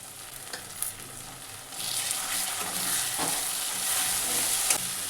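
Spice paste with tomato, cashew paste, ginger paste and chili powder sizzles steadily in a pan while being stirred, a continuous hiss that swells louder partway through with occasional scraping clicks.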